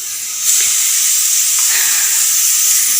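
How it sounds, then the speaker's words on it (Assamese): Vegetables frying in a hot pan for a home-cooked bhaji, a steady close hiss and sizzle that starts suddenly after a short pause and continues evenly, with no one talking. "এয়া ভাজি বনাবলৈ থৈ দিছোঁ ৰেডি কৰি এইবোৰ"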